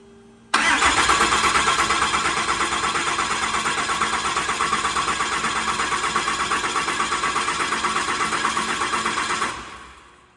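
A mid-sized engine, back running for the first time after a major failure, catches abruptly and settles into a loud, steady, rapidly pulsing idle for about nine seconds before cutting off.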